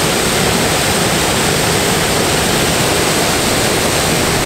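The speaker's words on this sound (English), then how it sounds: "get these magnificent waterfalls" The Lingjiao Waterfall in Taipei, Taiwan, roars as a steady, dense rush of falling water without pause, loud and close, with no voices.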